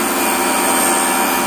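A hand saw without set on its teeth cuts wood for a 1:48 model of the 1719 ship Royal William, giving a loud continuous rasping scrape with no voices.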